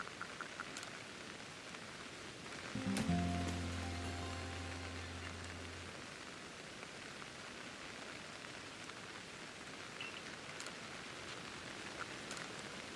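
Steady rain hiss from the video game Pokémon Legends: Arceus fills the whole stretch, with a brief game chime and low tonal swell near the start fading out, and the rainfall carrying on alone with no talk.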